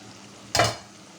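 A single quick stir of loitta dried fish sautéing in oil in a pan, Cox's Bazar style: one short scraping sizzle burst, close and fairly loud, framed by near silence.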